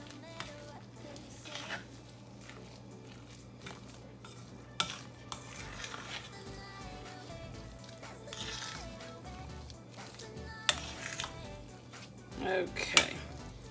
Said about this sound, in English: now I'm gonna just stir these in